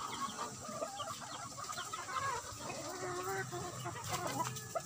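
Hens clucking and cackling inside a poultry coop at a farm that raises derby fighting cocks, a steady chorus of overlapping calls with occasional crowing, no speech.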